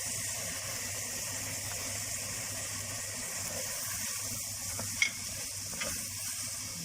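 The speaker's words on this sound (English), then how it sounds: "Give it a nice stir." Ground spices being stirred into a hot pan for a Middle Eastern Turkish bread dish, with a steady sizzle throughout and a couple of sharp spoon scrapes near the end.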